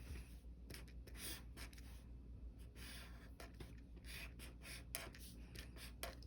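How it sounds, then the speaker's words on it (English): A pen or pencil drawing a tape diagram on paper makes a quiet series of short scratching strokes with brief pauses between them, close up and with no talk. "So first I'm gonna draw my tape diagram."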